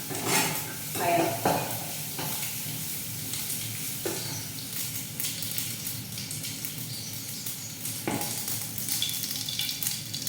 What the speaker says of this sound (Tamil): இந்த பக்கம் இது ஒன்று நல்லா ஃப்ரை ஆகிடும்